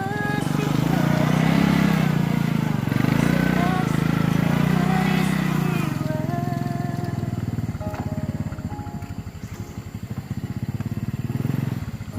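A motorcycle engine growls nearby, loud at first then idling with a sputtering putter as it settles.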